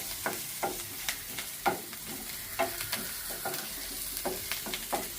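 Green chilli pieces and turmeric fry in a pan for a drumstick milk curry, with a steady sizzle broken by about ten spoon scrapes and stirs at a regular pace.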